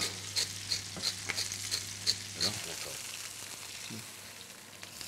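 Small chestnuts tumble into a pan of frying poultry, a steady close sizzle punctuated by light clinks and spoon scrapes as they land and are stirred.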